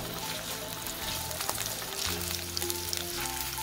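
Garlic and ginger sauté in hot oil in a pan for a Filipino pineapple chicken dish, giving a steady, close sizzle with small crackles throughout and no talk.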